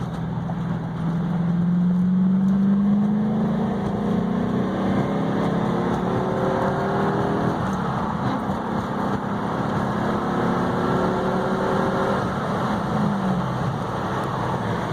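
A 1995 C4 Corvette with a 6-speed manual and light modifications drives steadily, its engine note climbing in pitch through each gear then dropping at the shifts, a loud continuous drone from inside the car.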